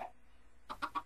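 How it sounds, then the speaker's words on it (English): Three short chicken clucks from Minecraft follow one another quickly after a near-silent stretch, moderately loud over a faint low background hum. "Oh, look at the chicken."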